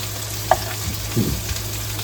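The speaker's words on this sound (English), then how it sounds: "while the peppers and onions saute" Strips of peppers and onions sauté in a pan for fajitas, with a soft continuous sizzle broken by a short clink and a brief stirring scrape, heard close up without talk.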